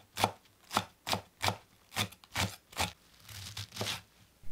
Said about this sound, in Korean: 파를 잘게 썰어 주세요.